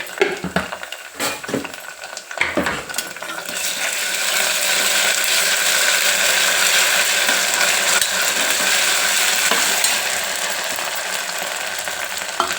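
Ginger garlic paste fries with onion in a pan for tomato rice. A few sharp clanks and scrapes of utensils come first, then a loud, continuous close sizzle with light stirring noises runs to the end.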